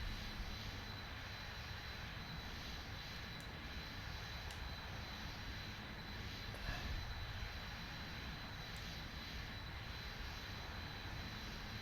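Steady droning of a small airplane engine throttled back to idle while flying, a continuous hum and airflow rush with a few faint clicks, no voices.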